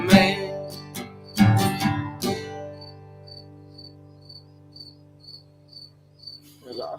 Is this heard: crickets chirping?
yes